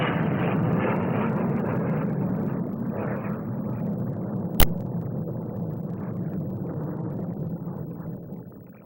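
A huge Victor jet bomber flies its display at the 1958 Farnborough air show, a steady, loud jet roar that fades slightly over time, with one sharp click partway through.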